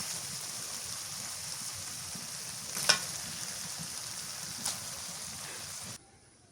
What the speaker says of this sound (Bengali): মশলা কষানো হয়ে গেছে এখন মাংসটা দিয়ে দিই